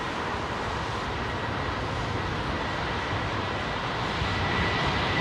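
A large airliner with Pratt & Whitney engines takes off at London Heathrow on a windy day, a broad continuous engine roar heard from a distance, steady and fairly faint with rumble and wind noise throughout.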